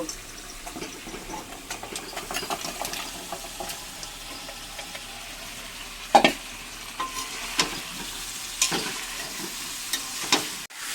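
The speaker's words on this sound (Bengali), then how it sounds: "এখন আমি ভেজে রাখা মুরগিগুলো দিয়ে দেব।" Fried chicken pieces tipped into cooked-down spices for a Bengali chicken kosha, sizzling steadily in the pan while being stirred, with a few louder clatters of the spoon against the pot.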